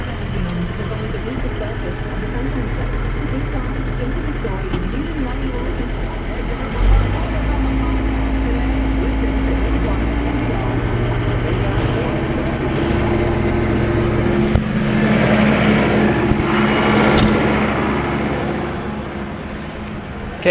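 Tractor engine runs steadily with the PTO engaged, a low droning hum that shifts in load partway through, while people talk nearby.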